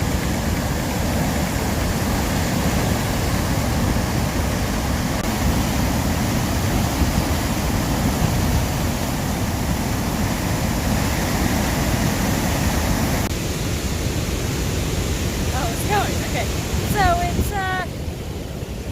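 Dettifoss, a huge waterfall in Iceland, roars as a loud, steady broadband rush in cold, windy, wet weather, with brief whistling or chirping sounds near the end.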